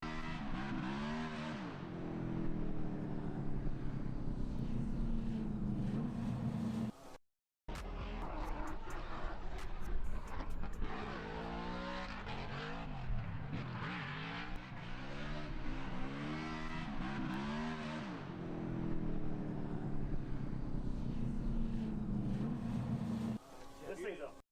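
Car engine revving hard while drifting, a loud continuous roar with rising and falling pitch sweeps and a brief cutout, tire noise mixed in throughout.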